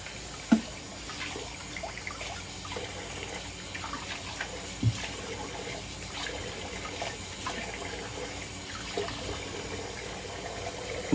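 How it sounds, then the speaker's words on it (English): A bathroom tap runs steadily for a cold water rinse after a wet shave, a continuous moderate splashing stream with a few sharp clunks and knocks along the way, no talking. "cold water rinse"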